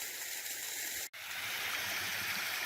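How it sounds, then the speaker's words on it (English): A small waterfall spills into a pool along a stream in La Madre Springs Canyon, a steady rushing splash heard close and continuous, broken by one brief dropout midway, with no voices. "Now we're at the fourth little waterfall and pool in La Madre Springs Canyon"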